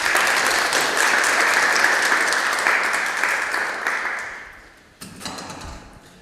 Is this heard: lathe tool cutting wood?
no